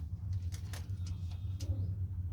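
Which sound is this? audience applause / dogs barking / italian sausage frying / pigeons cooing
pigeons cooing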